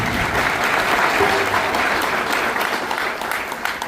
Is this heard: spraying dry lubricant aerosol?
no